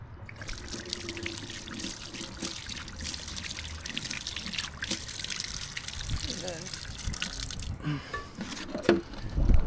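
Water hissing and trickling as a pressure washer surface cleaner head is rinsed outdoors on a driveway job, a steady close wash of water with talk over it.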